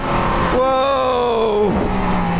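A Mercedes-AMG ONE hypercar accelerating on the Nürburgring straight, a loud rising engine tone heard from inside that climbs then drops sharply at a gear change, with a voice briefly exclaiming over it.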